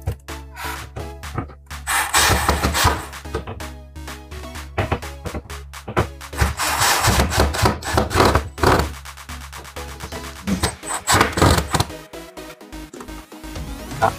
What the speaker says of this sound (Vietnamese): bây giờ để ngay lại rồi mình siết vô thôi